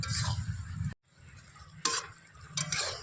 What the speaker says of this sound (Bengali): আমি এইভাবে কিন্তু অনবরত নাড়াচাড়া করে যাচ্ছে আর আস্তে আস্তে দেখুন আমগুলো কিন্তু ফুলে উঠছে রসের মধ্যে